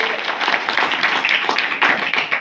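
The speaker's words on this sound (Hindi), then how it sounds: "ताली बजाइए" An audience claps together at a business motivational talk, with dense, steady, fairly loud applause running throughout and no clear speech over it.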